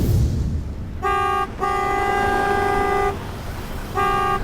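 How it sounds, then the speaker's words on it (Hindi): A car horn honks loudly in long sustained blasts, three in a row with short gaps, over a low traffic rumble. "एक कार वाला उसे बहुत देर से हॉर्न पे हॉर्न दिए जा रहा था।"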